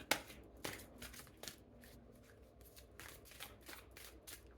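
Tarot cards being shuffled and handled during a reading, giving repeated riffling and slapping bursts in an uneven rhythm, close and moderately loud with no talk.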